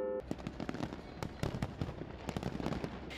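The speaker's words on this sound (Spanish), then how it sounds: "El Partenón, una de las maravillas del mundo antiguo, estuvo iluminado por fuegos artificiales" New Year fireworks over the Parthenon in Greece crackle and pop in dense, rapid, irregular bursts, heard from some distance over a steady crowd-like background wash.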